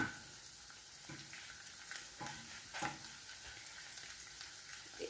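Broccoli, yellow pepper and carrot sauté in a pan with a faint, steady sizzle, broken by a few soft stirring knocks and scrapes.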